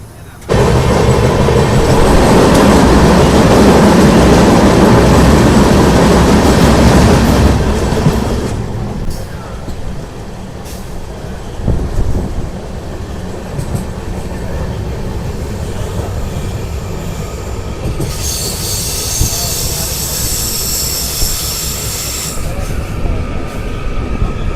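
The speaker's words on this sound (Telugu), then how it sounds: "సో మన ట్రైన్ వచ్చేసి అమలా జంక్షన్ వచ్చి అయితే బయలుదేరిపోయింది" The Telangana Express pulls away from Amla Junction, a loud rumbling of wheels and carriages with a high squeal of wheels on rails later on, the roar easing somewhat after the first few seconds; faint voices in the background.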